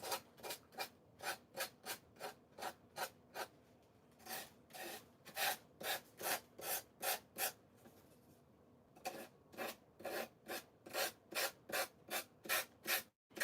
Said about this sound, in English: I'm just going to take my little gator sander here, and I'm going to go around and sand off